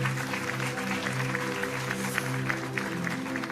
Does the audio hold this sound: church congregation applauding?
yes